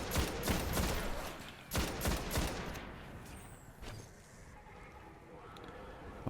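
Gunfire in the video game Destiny during a solo Nightfall strike, a dense rapid burst of weapon shots in the first half that thins out into quieter game ambience and scattered effects.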